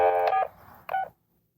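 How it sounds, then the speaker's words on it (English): A couple of short telephone keypad tones sound in quick succession, clear and close, then silence. "Had to get the dial tone first"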